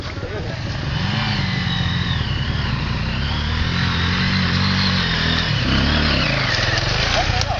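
Honda motorcycle running on a dirt trail, its engine loud and close with a steady drone and shifting revs while people talk and call out over it.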